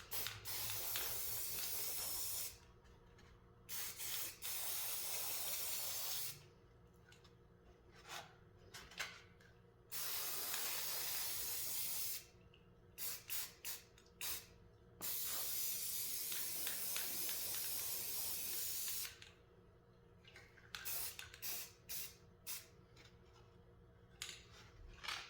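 Spray paint hisses from an aerosol can onto a ceramic deer figurine in repeated bursts of several seconds each, close and steady, with brief pauses and small handling clicks between sprays.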